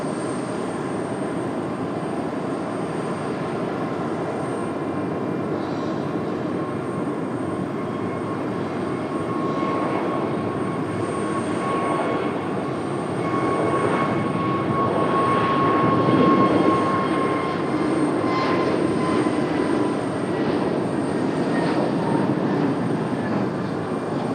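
A jet airliner at Raleigh-Durham International Airport rumbles with a broad, continuous engine roar and a faint whine, swelling louder midway as it passes closer, with no voices.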